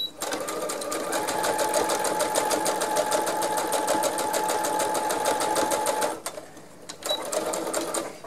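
A domestic sewing machine stitches curtain fabric in a fast, even whir for about six seconds, pauses briefly, then starts up again, close and steady.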